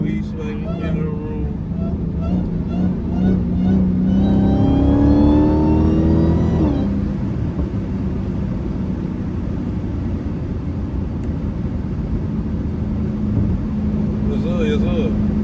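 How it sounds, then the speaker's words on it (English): An 800hp Dodge Hellcat pulls hard, its engine note rising sharply in pitch and then dropping off as it shifts. A steadier rumble follows, with a voice talking over the engine in places. "Hellcat coming through."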